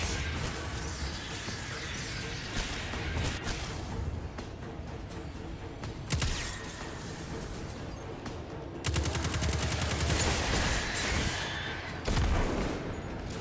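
Video game gunfire in Destiny 2 Shadowkeep, sustained bursts of rapid shots layered over a busy battle din, with heavier volleys and impacts around the middle and end.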